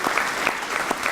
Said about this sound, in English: A round of applause for all of these wonderful students